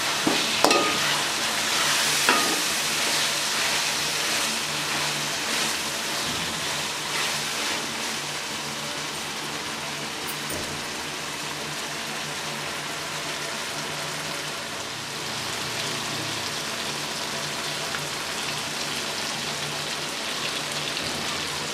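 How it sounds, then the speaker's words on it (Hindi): Tomatoes fry in a pan, a continuous crackling sizzle with occasional stirring scrapes, moderately loud and steady, with no voices. "टमाटरों को अच्छे तरीके से फ्राई करेंगे।"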